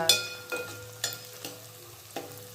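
Onions and bone marrow pieces fry in a pan, with a soft continuous sizzle broken by several sharp scraping stirs at regular intervals.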